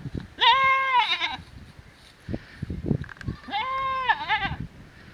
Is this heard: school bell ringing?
no